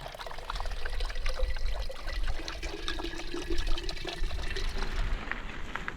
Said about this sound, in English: We found a spigot on the edge of town to fill up with some water.